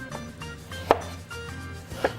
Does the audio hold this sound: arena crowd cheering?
no